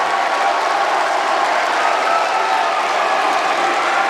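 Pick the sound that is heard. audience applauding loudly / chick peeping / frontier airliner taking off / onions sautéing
audience applauding loudly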